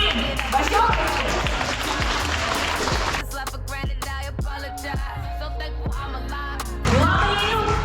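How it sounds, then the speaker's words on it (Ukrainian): An audience at a belly dance competition festival in a concert hall applauds over loud stage music with a thumping beat, the clapping continuous throughout and swelling again near the end. "Ваші оплески!"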